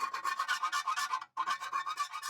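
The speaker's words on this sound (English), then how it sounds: "In order for me to put this bolt in, I have to file that down." Hand file rasping down a brake bolt on a budget off-grid camper build, a close, steady run of rhythmic scraping strokes, about a dozen in all, with one brief pause midway.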